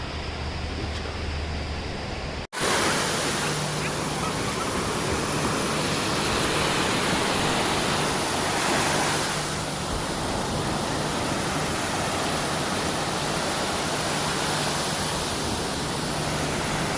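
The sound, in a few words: beach waves at sunrise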